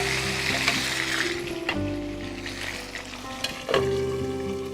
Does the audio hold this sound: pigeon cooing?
no